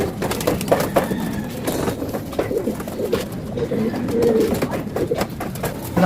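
A flock of racing pigeons coos and murmurs continuously nearby, with soft flutters and scattered clicks in the background.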